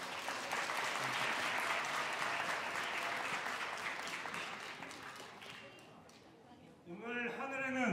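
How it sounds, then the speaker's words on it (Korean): A church Christmas service audience gives loud, sustained applause to welcome a performing team onstage; the clapping fades toward the end before a voice begins speaking. "우리 364 사랑방 팀을 큰 박수로 모셔보겠습니다."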